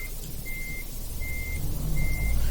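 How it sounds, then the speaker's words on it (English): Three evenly spaced reversing beeps ring out over a low truck engine rumble that grows slightly louder toward the end, in Euro Truck Simulator 2. "You can hear the beeping of the reversing warning."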